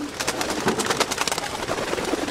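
Pigeons coo in a racing-pigeon loft, a continuous layered murmur of soft throaty calls from several birds close by, with no voices.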